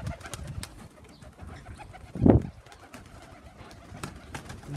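A pigeon or dove gives a single short, close coo midway through, rising briefly above steady outdoor background noise during morning bird feeding.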